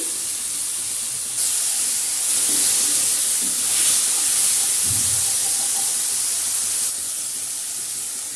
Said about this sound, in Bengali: এখন আমি আগে থেকে কেটে রেখেছিলাম কুচি কুচি করে আলু, 2টো আলু কুচি দিয়ে দিলাম।